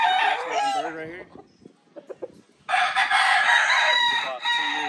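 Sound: Hatch Grey rooster crowing

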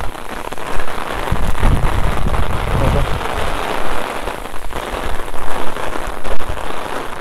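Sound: heavy rain falling

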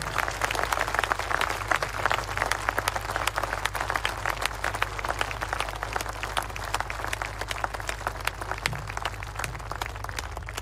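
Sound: applause for the compatriots of Artsakh

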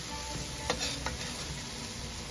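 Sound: food frying in a pan

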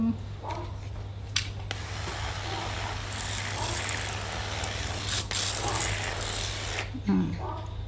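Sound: spraying water from spray bottle

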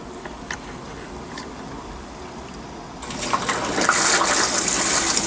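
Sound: Consul 16kg washing machine filling with water for first rinse

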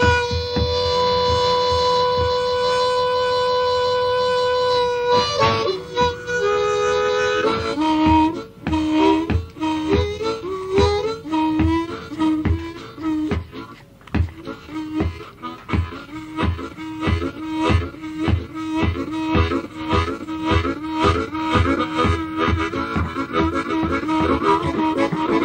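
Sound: harmonica imitating a train

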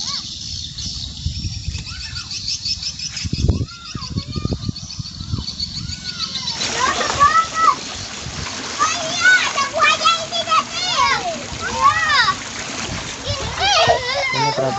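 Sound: small children playing in water

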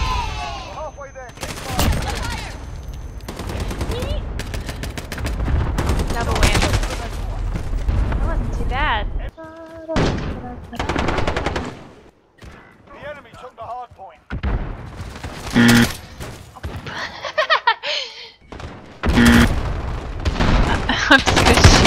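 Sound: gunfire in Call of Duty Modern Warfare video game

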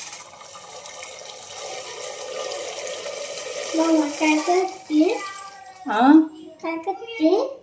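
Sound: water running from tap

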